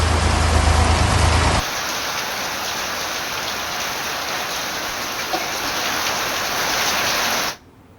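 Steady heavy monsoon rain in Surat, India hisses continuously, a dense broadband wash that stays even throughout and cuts off abruptly at the end.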